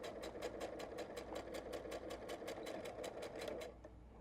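A sewing machine stitches twill tape onto a baby washcloth in a fast, even run of rhythmic needle beats, close and fairly quiet, then stops abruptly; no talking.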